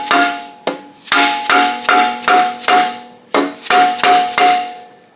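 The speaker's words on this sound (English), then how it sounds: "I got a dead blow so it don't spring back on you" A dead blow hammer repeatedly strikes a wrench on a rusty Jeep's torque converter bolt, producing about a dozen loud, ringing metallic blows in a steady rhythm with one short pause.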